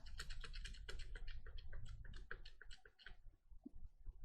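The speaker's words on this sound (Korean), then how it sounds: "오른쪽으로 붙이실 때는 스페이스바 이렇게 눌러서 이동하시면 되시지요" Computer keyboard keys, including the spacebar, are pressed in a quick run of clicky taps while filling in an Excel form, close and fairly quiet, then thinning out to a few separate presses.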